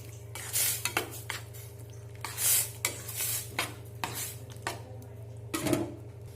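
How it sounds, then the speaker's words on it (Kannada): Cooked toor and moong dal are stirred in a metal pot for bitter gourd gojju, with intermittent scraping clinks and knocks of a utensil against the pot, close and clear over a steady low hum. "ಇದೆಲ್ಲ ಮಿಕ್ಸ್ ಮಾಡ್ಕೊತೀನಿ"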